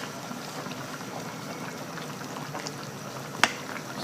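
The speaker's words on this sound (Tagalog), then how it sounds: "kumukulo-kulo na siya" Pork kaldereta simmering in a pot gives a steady, soft bubbling hiss with a faint sharp clink or pop near the end, heard alone without talk.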